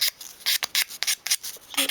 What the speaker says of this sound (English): Don't be too rough when you're sanding these little areas either.